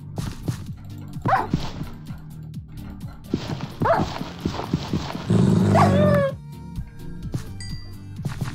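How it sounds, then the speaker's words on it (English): A dog in the Minecraft video game gives a few short, sharp barks spread across the clip, mixed with other game sounds and a brief louder burst of noise near the middle. "There's a dog."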